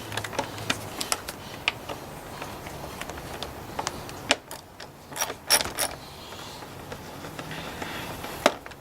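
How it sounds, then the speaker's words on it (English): Screws are undone on the air cleaner cover of a Honda Odyssey, giving scattered sharp clicks and ratcheting ticks at irregular intervals, close by, with small metallic clatters mid-clip. "So I'm going to undo each screw."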